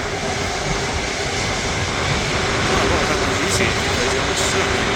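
Air Transat Airbus A330 airliner at Manchester Airport, a steady broadband jet roar filling the whole span at moderate distance, with an observer talking over it.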